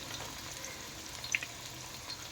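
Ginger, garlic and green chilli fry in a pan, a steady, faint hiss of oil sizzling with a couple of tiny pops, close and quiet with no voices.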